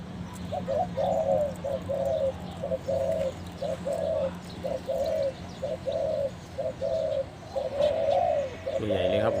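A large zebra dove coos in a steady repeating rhythm, close and clear, over a low background hum, with a brief flutter of other sounds near the end.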